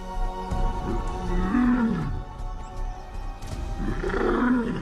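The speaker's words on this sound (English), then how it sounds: "These roars declare not possession of territory, but availability." Male African lions roar in the wild, deep rumbling calls rising and falling in repeated bouts that carry loud and close, one roar swelling after another.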